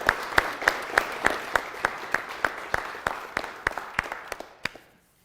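Audience at a chili and chocolate fundraiser applauding with sharp, evenly spaced claps in a steady rhythm, fairly close and clear, that stop abruptly after about five seconds.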